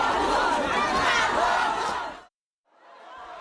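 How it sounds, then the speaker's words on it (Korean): A crowd of citizens at Daegu Seomun Market cheers loudly for an arriving political campaign leader, a dense roar that cuts off abruptly, then a fainter burst of crowd noise returns. "대구 서문시장에 들어서자 시민들이 환호합니다"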